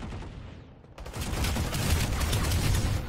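Gunfire fills a Planetside 2 battle with a continuous, loud barrage of overlapping shots and explosions. It builds after a brief dip and stays dense throughout.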